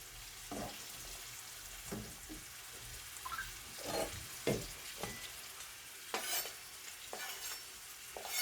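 Faint frying hiss of sweet peppers in a pot, broken by occasional light knocks and scrapes of a spoon. Low and steady, with no one speaking.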